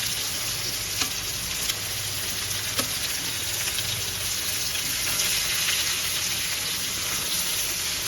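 Stuffed bitter gourd curry fries in a pan with a dense, steady, loud sizzle, joined by a couple of faint stirring taps as the pieces are gently turned.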